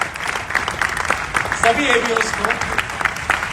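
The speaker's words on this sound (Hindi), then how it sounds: "तालियां जोरदार बनती है हमारे एबीओस के लिए" An audience at an on-stage gathering breaks into applause, a moderate, steady patter of many hands clapping while someone speaks over it on a microphone.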